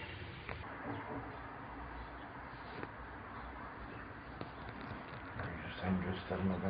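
A dove coos faintly at a distance in a noisy outdoor setting near a zoo enclosure, its soft calls buried under background chatter and general bustle, with some louder movement near the end.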